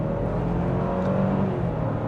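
Lexus LX 600 engine pulling hard under acceleration through its 10-speed automatic, a steady close interior drone with a rising tonal hum and no talking.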